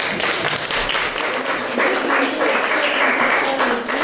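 Applause from a large audience fills the clip, dense and sustained at an even level, with faint voices underneath.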